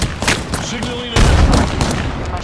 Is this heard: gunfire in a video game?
yes